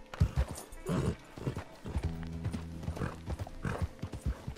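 Rapid clip-clop of galloping hooves with a brief whinny, amid bursts of noisy gunfire and a low droning tone in Red Dead Redemption 2.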